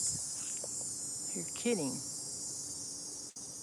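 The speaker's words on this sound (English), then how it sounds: "are the cicadas back?" Cicadas buzz in a summer flower garden as a steady high-pitched drone throughout, while a person speaks briefly over it.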